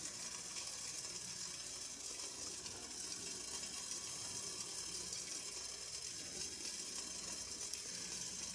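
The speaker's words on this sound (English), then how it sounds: "real nice strong boil" Water in a small steel pot boils strongly on a DIY alcohol stove, giving a steady, faint, hissing bubble with no breaks.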